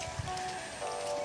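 Steady rain falling on a corn field, a constant soft hiss of drops without pause and fairly quiet.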